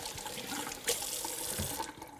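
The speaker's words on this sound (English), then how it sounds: "I'm gonna give my hands just a quick rinse" Hands being rinsed under a running kitchen tap while making guacamole, a steady splashing stream with brief shifts as the hands move through the water, moderately quiet and close.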